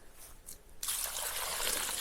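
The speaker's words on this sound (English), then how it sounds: "I'm putting water into the holes because the soil is too dry" Water poured from a container into dry planting holes dug for shrubs on an old farm, starting as a faint trickle and then swelling into a steady, close splashing pour.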